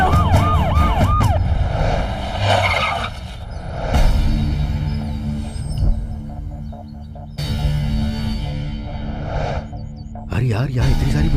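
Police sirens wail as several police vehicles arrive, the rising and falling tones coming and going over traffic and engine noise while people talk throughout.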